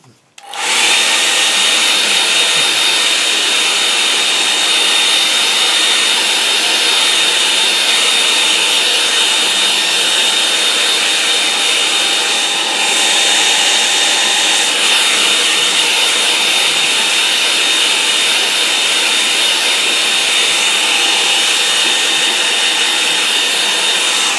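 A hair dryer drying paint runs loudly and steadily for the whole stretch, a constant high whooshing whine after a brief start, with no voices.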